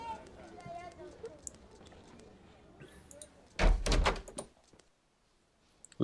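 A door swings open inside the Avernum role-playing game, a loud close thud with a short clattering burst, heard after a stretch of talking and followed by near silence.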